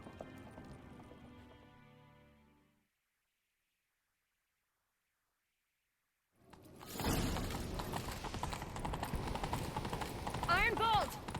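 In The Witcher 3, hooves start drumming after a stretch of silence, with a rapid galloping clip-clop that stays loud and close, rising to a brief whinny-like cry near the end. Talk precedes the quiet gap.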